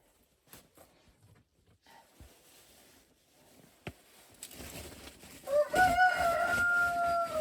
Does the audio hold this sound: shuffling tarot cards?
no